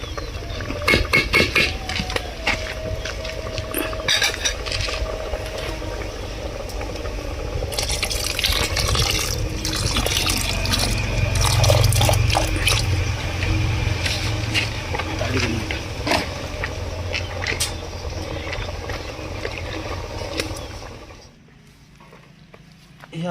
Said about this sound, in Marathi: आता आपण यात थोडंसं पाणी घालूया फक्त